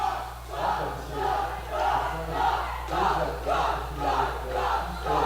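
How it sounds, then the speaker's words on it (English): Roller derby crowd chanting at a tournament game, a large arena crowd shouting in a steady repeated rhythm of about one chant per second, loud and continuous with no other voices over it. "I just love it when the crowd chants."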